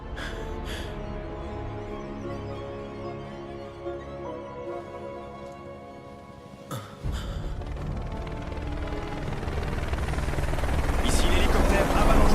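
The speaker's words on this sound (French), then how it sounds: "Ici l'hélicoptère Avalanche 3. Lançons l'opération de sauvetage." A helicopter in the video game Final Fantasy 7, its rotor drone running throughout and swelling louder toward the end, with voices speaking over it.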